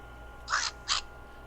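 Two short, harsh caw-like squawks of an Angry Birds game bird character, triggered on an Optimus V phone, spaced about a third of a second apart, clear and alone.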